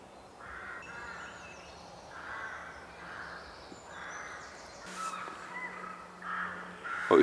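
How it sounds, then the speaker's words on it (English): Crows caw repeatedly from a distance in a summer countryside setting, harsh calls coming in irregular clusters over a quiet outdoor background, with a brief rustle near the end. "you can hear the crows are still going absolutely crazy"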